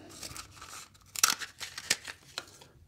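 A knife or scissors cuts open a hardened, dried clay sculpture piece, giving a few sharp crunching, tearing snips spaced through the clip, close and fairly quiet with no talking.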